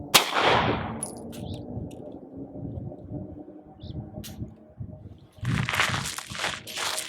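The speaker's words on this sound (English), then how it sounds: "Now I'm gonna shoot the other 10 rounds with my left hand." Sig P365 Gen 2 pistol fired left-handed: a few sharp, quiet reports scattered over about seven seconds, the first ringing out above a low rumbling background, with no voices.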